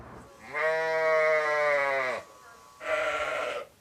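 A sheep bleats at a sheep shearing shack in New Jersey, one long wavering call followed by a shorter second bleat, close and clear against a quiet background.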